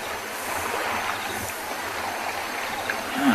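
Elephants splashing and tussling in the water at a dam during a sunset safari, a continuous sloshing, churning wash of water with a slight surge at the end, heard from a little distance.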